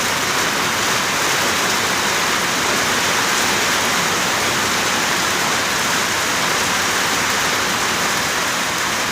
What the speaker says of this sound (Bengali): বৃষ্টিটা এখন কিন্তু কমে গেল